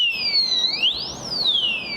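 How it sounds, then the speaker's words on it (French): An electric bike lock alarm wails continuously, its piercing tone sweeping up and down in a steady siren-like pattern, close by. "je vais laisser sonner l'alarme"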